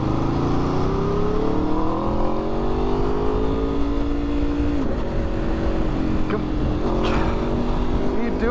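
An Aprilia RSV4 1100 Factory sport motorcycle with an aftermarket exhaust drones and revs steadily, pitch rising through the gears with shifts, loud and close under continuous wind rush.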